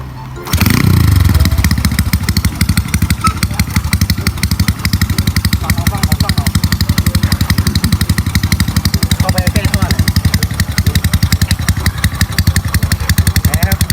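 A Wave 125 motorcycle engine with stock valves fires up with a loud burst, then settles into a fast, steady, throbbing idle close by for the rest of the stretch.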